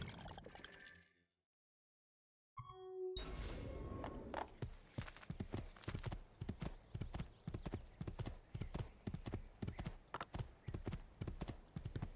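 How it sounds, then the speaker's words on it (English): Steady, rhythmic clip-clop of horse hooves in the video game Assassin's Creed II, loud and close, with game sounds around it and a brief gap of silence near the start. "Get on the horse."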